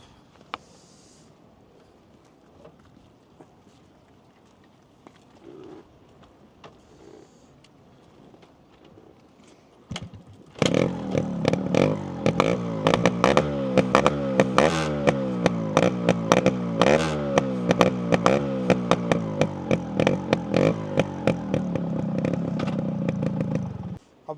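A motorcycle engine idles quietly, then bursts into loud, sustained revving with repeated throttle blips, close and dominant for the rest of the clip.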